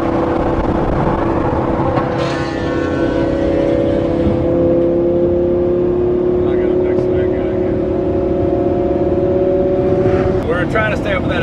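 Lamborghini Aventador accelerating away on a Miami Beach road, its sustained engine drone steady and loud from a following car, with some road noise and voices.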